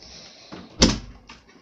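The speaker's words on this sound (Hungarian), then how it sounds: "És csukjátok be az ajtót" A door shut indoors: one firm thud with a short burst of rattle, fairly close, then a fainter knock a moment later, set against quiet room tone.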